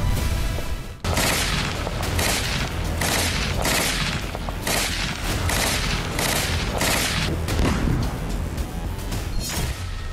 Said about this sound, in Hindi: इसीलिए इसराइल यहां भीषण बमबारी कर रहा